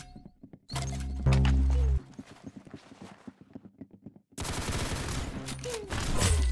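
Gunfire in the Roblox Arsenal video game: loud bursts of rapid shots mixed with game sound effects, with a quieter stretch of scattered noises between two dense volleys.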